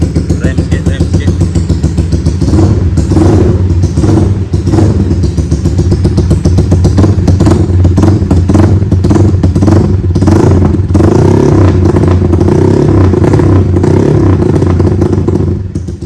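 A Yamaha Y15 motorcycle engine being revved hard on a dyno, loud and close, rising through sustained high-rpm runs with a rough clattering edge and a few thumps, no voices over it.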